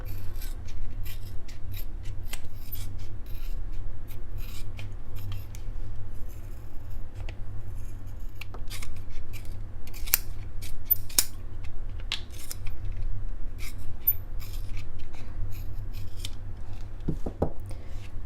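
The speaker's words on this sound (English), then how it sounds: "we'll trim following the marks that I left" Scissors trimming thermoplastic splint material for a hand-based thumb spica along drawn marks: a long run of quiet, close snips and scraping cuts in an irregular rhythm, with faint rubbing between them.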